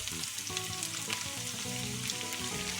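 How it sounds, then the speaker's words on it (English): Garlic frying in hot oil in a pan for a Galician-style monkfish and hake dish, a steady close crackling sizzle throughout, alone with no voices. "Now the oil is hot. I'm going to add the garlic"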